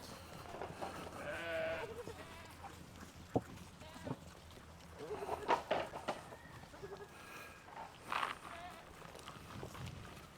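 Farm goats bleat at intervals while hooves patter nearby, a few distinct cries standing out against quiet outdoor ambience, with a person calling to the herd.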